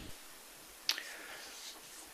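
A single sharp hand clap for audio synchronization rings out near the middle, short and crisp against an otherwise quiet, faintly hissing room during a ghost-hunting EVP session.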